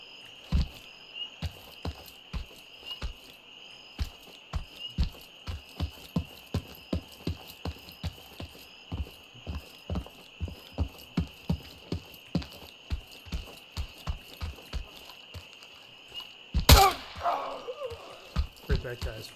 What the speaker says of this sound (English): Heard that guy's footsteps there.